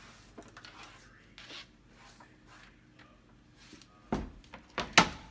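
Red and green peppers are thrown into a bowl and mixed, with soft rustling and light knocks building to a few sharp clattering hits against the bowl near the end, fairly close and otherwise quiet.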